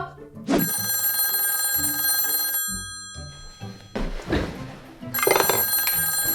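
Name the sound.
telephone ringing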